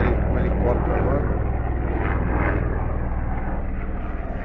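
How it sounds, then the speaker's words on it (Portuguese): Steady engine and rotor drone of a helicopter passing over an outdoor pool construction site, a continuous low rumble that fades slightly toward the end. "Passando ali com o helicóptero agora."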